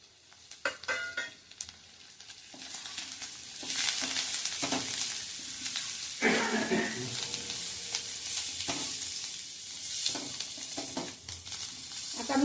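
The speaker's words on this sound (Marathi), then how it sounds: "हा पेरू छान परतून घेणार आहोत" Chopped, seeded guava pieces sautéing in a pan over lowered heat for a guava panchamrut, a steady sizzle and frying hiss with occasional stirring scrapes and clinks of a spoon against the pan.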